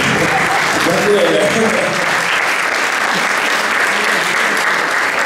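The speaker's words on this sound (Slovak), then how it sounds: "Zuškárik, veľký potlesk pre nich a pre Julku Potúdovú" Sustained audience applause for young singers at the Ahoj prázdniny 2023 summer holiday celebration, a dense steady clapping that fills the whole stretch with crowd voices mixed in.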